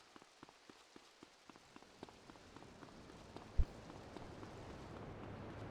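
Rain falls in GTA Liberty City Stories on PS2, a faint, even patter of drops on hard surfaces with scattered light taps and one low thump partway through, distant and quiet with no speech.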